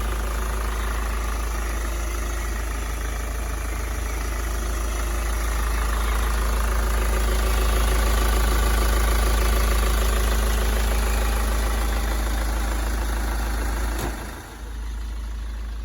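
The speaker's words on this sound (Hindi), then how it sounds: "आप सुन सकते हैं स्कॉर्पियो की इंजन नॉइस।" A Mahindra Scorpio S9 with a 2.2 litre diesel engine idles, a steady, even low hum with faint knocking, heard close and alone, with a brief thump near the end.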